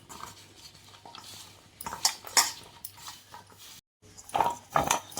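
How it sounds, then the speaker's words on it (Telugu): Potato pieces are tossed and mixed with cornflour in a bowl for peri peri fries, giving close, uneven bursts of rustling and clattering scrapes with short pauses between them and no speech. "ఈ కాన్ఫ్లోర్ అనేది ప్రతి ముక్కకి పట్టేలాగా చిన్నగా కలుపుకోండి ఇలాగా"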